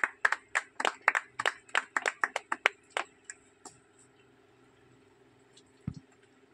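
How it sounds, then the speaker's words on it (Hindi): A small group claps at a party joining ceremony in Odisha, a short burst of sharp, close hand claps that quickly thins out to a few scattered claps and then near silence. "ताली दियो"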